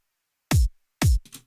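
Two punchy electronic kick drum hits from a simple Friday Night Funkin' style beat, deep and booming, about half a second apart, heard alone with a brief trailing tail after the second.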